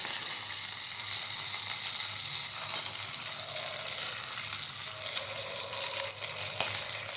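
Fish frying in oil in a pan, a steady bright sizzle that stays loud and even throughout, with faint bubbling and no voices.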